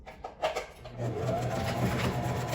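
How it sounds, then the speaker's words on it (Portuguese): A sewing machine begins stitching fabric for a multipurpose organizer with a backstitch, starting with a few taps and jerky bursts, then settling into a steady close whir of rapid stitching, with no voice over it. "Vai começar a costurar e vai dar um retrocesso."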